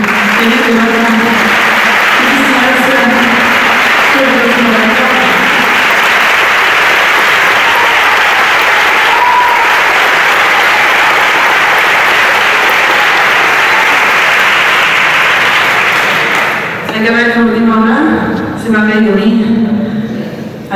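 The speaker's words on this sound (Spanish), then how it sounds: "pido un fuerte aplauso para esta pedazo de orquesta" Sustained loud applause from a concert audience for an orchestra, with a voice talking over the clapping early on and again near the end as it fades.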